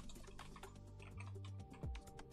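Fingers type code on a computer keyboard in quick, light, irregular clicks, close and very quiet, with a faint low hum underneath.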